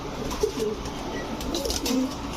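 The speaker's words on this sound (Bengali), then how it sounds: "এটা নিবেন, দেখেন লং ডিস্টেন্সের কবুতর, এটা দিয়ে অনায়াসে রেস করতে পারবেন" Racing pigeons for sale at a busy pigeon market give a few soft, low cooing calls scattered through a murmur of crowd noise, fairly faint and close by.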